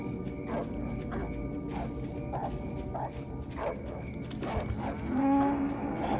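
A dog lets out a run of short, evenly spaced barks while it is set loose in The Cows Are Watching, a night-time farm video game set in the fields, over a steady game background and a sustained tone near the end.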